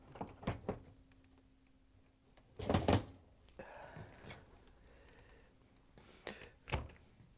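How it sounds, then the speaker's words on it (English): A GE dishwasher door being set back onto its hinges: a series of close metallic clicks and thunks, one heavier clunk in the middle, and lighter scraping and knocks of metal parts around it. "To put the door back on, all you have to do is line up the hinges and set the pins in there."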